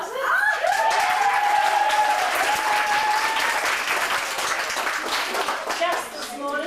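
A high school audience in 1987 claps and cheers loudly, dense applause with a whistle and some laughter, sustained for several seconds before tapering off.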